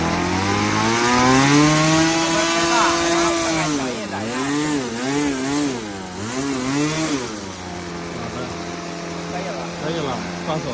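A methanol-fuelled model airplane engine on a balsa fixed-wing plane screams at full throttle. Its loud, close, buzzing whine wavers up and down in pitch as it revs, then settles into a steady drone while voices talk faintly.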